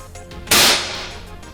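A Gamo P25 pellet pistol fires a pellet into a Spam can: one sharp, loud crack that rings off over about a second, set against a steady low background hum, no talking.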